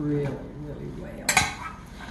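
Roasted potatoes with butter and bacon being mixed in a dish, a utensil scraping and clinking against the dish in a short burst of loud clatter.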